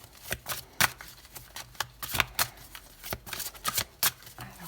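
Large tarot cards being shuffled by hand, a string of crisp riffling bursts and soft slaps in an uneven rhythm, close and fairly quiet, with no voice over them.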